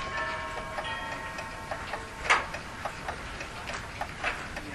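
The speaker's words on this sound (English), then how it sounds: "the sound of ticking clocks" Several clocks tick in a room, with overlapping steady ticks at a moderate level and one louder tick standing out, no voices.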